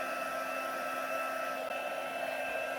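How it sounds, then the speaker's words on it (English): A handheld embossing heat tool warms up for card making, blowing with a steady, even whine and hiss like a small hair dryer, held close and running unbroken. "noisy heat machine tool, heat tool. Okay, so bring in the heat tool. Let it warm up a bit."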